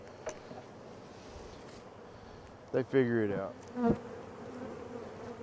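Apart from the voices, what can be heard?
many honey bees flying at bee yard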